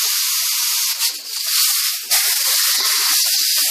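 Compressed air hisses steadily from a shop air line in a garage during Nissan Altima axle work, a loud continuous broadband rush with brief dips and surges.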